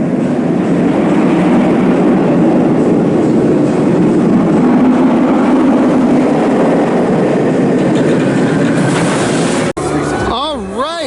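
A loud, continuous rumbling roar of a roller coaster's cars running on track at Six Flags Magic Mountain, clattering close by, ending abruptly with a brief warbling tone.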